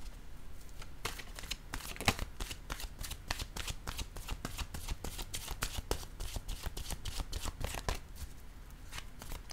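A deck of oracle cards being shuffled by hand: a quick run of crisp, close slapping and riffling card sounds repeating steadily throughout, with no talking.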